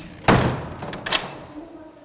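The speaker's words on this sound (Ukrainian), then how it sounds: "Юрист консульт демонстративно зачиняє перед журналістами двері." A door is shut by a university legal adviser in front of reporters, producing one sharp thud near the start followed by a softer knock or latch click a moment later.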